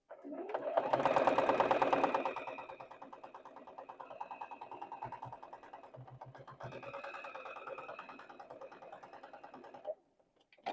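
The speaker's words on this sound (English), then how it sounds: "Let's go ahead and sew this one on here right like this, because we know this is where it goes" Sewing machine stitching a quilt block, a fast steady whir of the needle that surges loud at first, pauses briefly, then runs on more evenly before stopping; close and clear, no talk over it.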